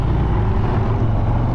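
A 2022 Harley-Davidson Street Glide ST motorcycle engine runs with a loud, steady, deep rumble that stays close and constant for the whole short stretch, with no speech.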